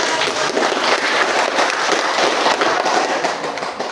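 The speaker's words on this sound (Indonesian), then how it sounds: "Betul, tepuk tangan" Loud, dense clapping from a classroom full of students, sustained and steady throughout with no pauses.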